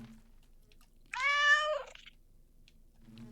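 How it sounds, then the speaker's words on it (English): A single clear meow from a house cat in Minecraft Bedrock Edition, a short bright game sound rising then falling in pitch, heard alone against near silence. "With the house cat that greets all of my guests."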